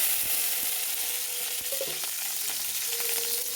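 Green chillies fry in hot oil with a little mustard for a mixed-greens dish, giving a close, steady sizzle with faint stirring scrapes throughout.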